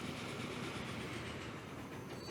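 A train runs on rails in the Transport Fever 2 video game: a continuous rumbling rail roll with faint rhythmic clatter, steady and dense from start to finish, with no talking.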